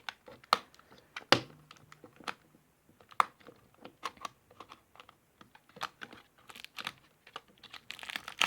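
A plastic bag is opened and crinkled while toys are unboxed, giving sparse, close crackles and rustles with a sharper tearing burst early and denser crinkling toward the end, and no talking.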